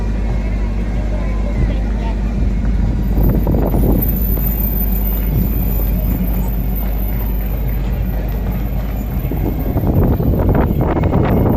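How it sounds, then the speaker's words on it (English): Strong wind roars and buffets the microphone continuously outdoors at a Memorial Day parade in Brooklyn, a heavy low rumble throughout with gusts swelling near the end. "See, it's very windy."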